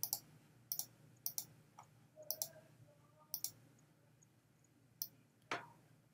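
Sharp, quiet computer mouse clicks, about a dozen spaced irregularly, some in quick pairs, during work in Illustrator, with a faint background hum and no talking.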